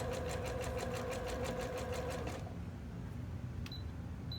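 A sewing machine runs in a fast, even rhythmic chatter as it stitches elastic onto a fabric hem, then stops after a couple of seconds, leaving quiet handling with a few faint clicks.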